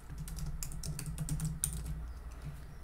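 Typing text on a computer keyboard sounds as a quiet, close run of soft key clicks in an irregular rhythm, with nothing else under it.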